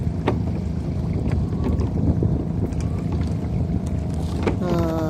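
A boat pitching on rough, choppy waves, with a steady loud wash of water and wind buffeting the microphone throughout, a few knocks and creaks, and a faint tonal whine near the end.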